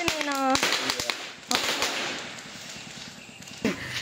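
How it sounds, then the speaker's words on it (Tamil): A Diwali firecracker string goes off, opening with a rising whistle and snapping pops, then scattered cracks that fade to softer spaced bursts, moderately distant with voices faintly around. "அதுல இருந்து நிறைய வெடிச்சுட்டு சரவெடி மாதிரி வந்துட்டு இருக்குது"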